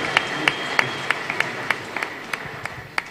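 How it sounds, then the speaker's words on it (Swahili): Sparse, scattered clapping from a church congregation at a grand opening service, distinct individual claps at an uneven, slow rhythm over a quiet room tone, fairly faint and thin rather than a full ovation. "Tupigie Reverend makofi mazuri"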